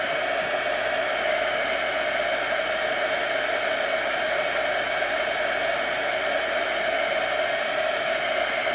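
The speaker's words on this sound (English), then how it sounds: "melt that powder with the heat of this gun and get nice and glossy" A heat gun blows steadily while melting embossing powder on stamped dahlia petals for a card, a continuous close, even whooshing roar with no pauses.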